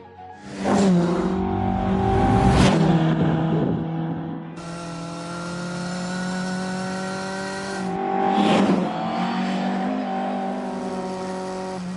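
A Mark 1 Lotus Cortina driven hard around Cadwell Park racetrack on a sunny day: a loud, close engine revs up through the gears, drops back on a shift and climbs again, with rising and falling pitch throughout.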